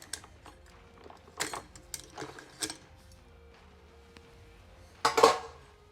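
A bolt carrier being removed from an AR-15 rifle during home cleaning gives a few close metallic clicks and sliding clacks, sparse and separated by quiet pauses, ending with a louder rattle.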